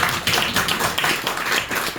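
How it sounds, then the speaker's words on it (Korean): Audience clapping at a Korean religious sermon, a brief burst of many hands in fairly rapid, uneven rhythm at moderate loudness, with no talk over it. "그럼 또 박수 한번 쳐야지."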